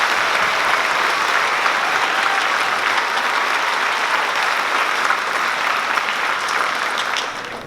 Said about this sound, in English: give Mrs. Gardner students a huge round of applause